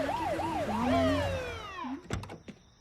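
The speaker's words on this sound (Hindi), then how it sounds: "ये एम्बुलेंस एम्बुलेंस काय करे?" An ambulance siren on a Mumbai street wails up and down in loud, close sweeps, then fades as several sharp door thunks follow.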